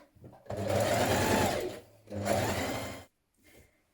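Sewing machine understitching a pocket seam on a dress: two close whirring runs of stitching, the first longer, then a brief quiet handling sound.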